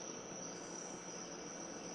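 Crickets chirp outdoors at night beside a reef tank setup, a steady high, continuous insect trill held at an even, fairly faint level throughout, with no voices.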